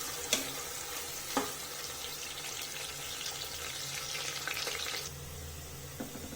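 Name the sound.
deep frying onions until golden brown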